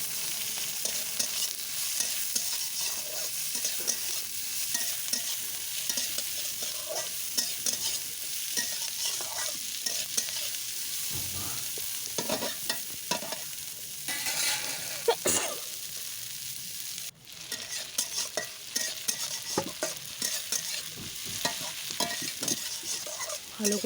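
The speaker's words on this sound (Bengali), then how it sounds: "ভালো করে পেঁয়াজটাকে লাল লাল করে ভেজে নিতে হবে।" Chopped onion and cumin frying in a pan hiss and crackle continuously while a spatula stirs and scrapes at irregular intervals, fairly close and with no voices.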